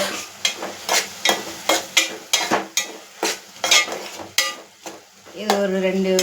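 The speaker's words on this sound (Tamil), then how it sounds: "இந்த ஸ்டேஜில் தக்காளியும் பச்சை மிளகாவும் போட்டுக்கலாம்" Tomatoes and green chillies are stirred into a hot pan of sautéed onion, ginger and garlic, giving a rapid, steady run of loud close spatula scrapes with sizzle, ending with a short humming tone.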